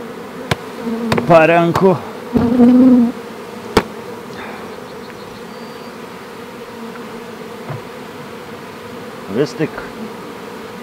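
A drone-laying honeybee colony buzzes steadily and close, with the hum carrying throughout. Someone speaks briefly over it a few times.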